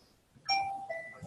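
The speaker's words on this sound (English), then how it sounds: "I think that's my phone going off," A phone goes off with a two-tone electronic chime, like a doorbell ding-dong, during an interview. The ringtone rings out once, clear and moderately loud, with no talking over it.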